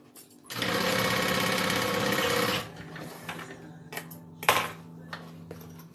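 A sewing machine runs a continuous burst stitching the exterior bottom seam of a Lola bag, loud and close for about two seconds, then stops, followed by light metallic handling clicks and clinks.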